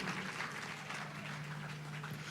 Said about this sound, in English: Please, one more time, a round of applause for Apostle Michael Oropo.